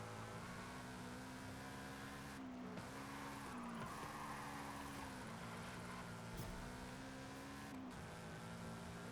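Toyota GT86 drifting down a mountain road in Forza Horizon 5, its engine holding a steady, sustained drone with brief tire squeal and shifts in pitch as the car slides through corners.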